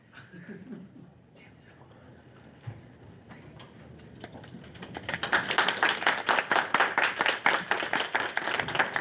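Student senate members break into clapping after a candidate's ratification; a few seconds of quiet talk come first, then loud, crisp clapping starts from many hands nearby and continues in rapid bursts.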